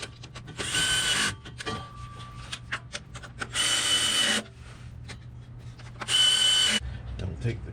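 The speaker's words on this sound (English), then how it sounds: "I'm going to put all these screws in lightly with this gun, just to make it faster" Three short whirring bursts from a power gun driving transmission pan screws on a 2015 Chevy Colorado's GM 6L50 transmission, close and loud, separated by quieter clinks and handling noise.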